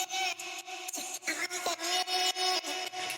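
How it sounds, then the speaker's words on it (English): Recorded vocal sample heavily processed with effects into a gritty, breathy texture with sustained tones and choppy, stuttering cuts, building tension, fairly quiet with no plain speech. "So I decided to record something with my vocal."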